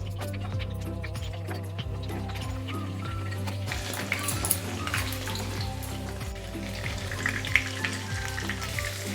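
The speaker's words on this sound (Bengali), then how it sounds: "এখন আমি এর মধ্যে দিয়ে দিচ্ছি তেজপাতা, আর দিয়ে দিচ্ছি যে আলুটা আমি রেখেছিলাম সে আলুটা ভাজার জন্য" Potatoes and bay leaves frying in hot oil, a soft continuous sizzle with occasional crackles and light stirring clinks over a steady low hum, quiet and without talk.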